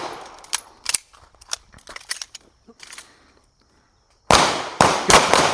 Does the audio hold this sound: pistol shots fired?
yes